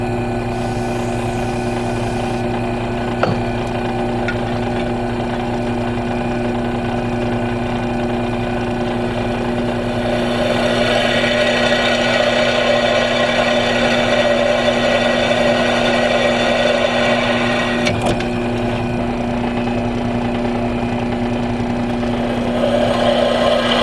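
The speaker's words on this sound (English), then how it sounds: "Now we drill." A power drill bores into steel for a bushcraft knife, a loud continuous motor whine that holds steady for over twenty seconds and grows harsher midway as the bit bites.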